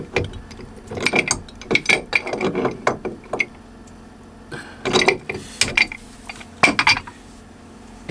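A wrench ratchets in quick, close clicking bursts while tightening the packing gland nut on a Catalina Capri 26 sailboat, with pauses between the runs of clicks and no talking.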